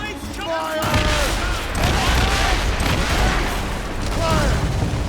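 Ship cannons firing during a naval battle in Assassin's Creed Rogue, heavy booming volleys that roll on continuously along with creaking and battle din, and shouting voices heard faintly at the start.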